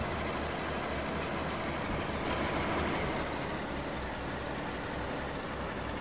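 A tractor pulling a trolley in Farming Simulator 19 rumbles along with a steady, low engine drone that stays even and fairly quiet throughout.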